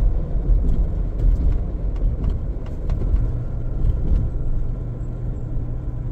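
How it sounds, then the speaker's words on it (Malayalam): Cars and trucks queue at the Saudi border crossing from Bahrain, their engines a steady low rumble with faint ticks and passing noise. "ഇതൊക്കെ സൗദിക്ക് പോകാൻ വേണ്ടി വെമ്പൽ കൊള്ളുന്ന വണ്ടികളാണ്"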